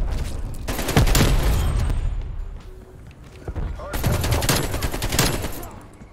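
Bursts of AK-47 fire in Call of Duty Cold War rattle in two rapid strings, one early and one later, with dull thuds between them and a voice talking over the shooting.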